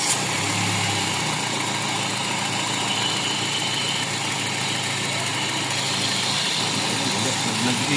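A Toyota 4A-FE engine idles erratically with low power, a steady close mechanical rumble and faint knocking under the hum.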